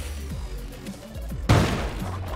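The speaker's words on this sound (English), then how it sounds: "I'm gonna bomb here." A bomb goes off in the cave-exploring video game Spelunky, a sudden loud burst of broadband noise that rises out of low background music and then tails off over the next second.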